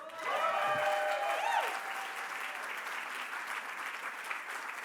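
Award ceremony audience applauding in a hall, a dense, sustained wash of clapping that begins strong and eases slightly, with a brief musical tone or voice briefly over it at the start.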